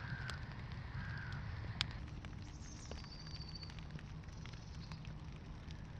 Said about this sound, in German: und alle Vögel werden wieder aktiv. Hört ihr das?